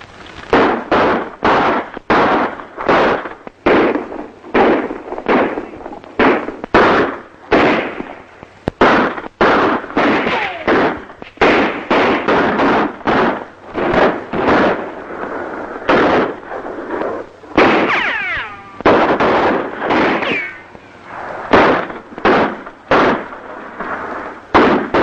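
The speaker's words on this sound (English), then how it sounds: "Them guns." A long, loud exchange of gunfire in an old western film: dozens of sharp, close shots fired in quick irregular succession for about 25 seconds, with brief ricochet-like whines here and there.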